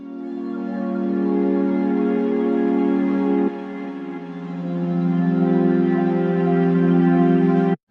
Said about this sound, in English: this is how the reverse chords sounds